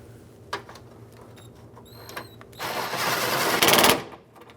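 A mounting nut on the fuel tank strap of a 2013-2020 Nissan Pathfinder is tightened: a few faint clicks, then a loud, rapid ratcheting burst lasting over a second before stopping.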